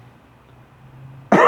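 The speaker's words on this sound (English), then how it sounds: "I shouldn't really be coughing like this." A man's single sharp cough bursts out near the end, loud and close, after a stretch of quiet room hum.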